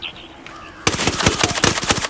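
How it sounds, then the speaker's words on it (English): Rapid gunfire in the Ghost Recon Wildlands open beta: after a quiet moment, a loud burst of repeated sharp shots rings out close by in quick succession, with no talk over it. "Must have heard the gunshot"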